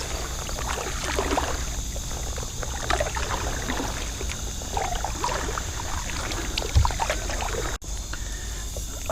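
A Pelican Bass Raider boat is rowed through calm water, giving a steady soft wash of trickling and dripping from the oars with faint strokes, fairly quiet and continuous.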